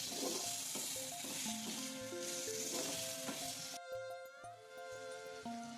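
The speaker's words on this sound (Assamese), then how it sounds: "এইখিনি আৰু অকণমান ভালদৰে ভাজি এতিয়া ভাজি থোৱা ব্ৰকলি আৰু আলুখিনি ইয়াত দি ভালদৰে মছলাখিনিৰ লগত মিহলি হোৱাকৈ আকৌ অকণমান সময় ভাজি ল'ম।" Broccoli and potatoes fry with spices in a pan for a fish curry, giving a steady soft sizzle under gentle background music, with occasional stirring scrapes.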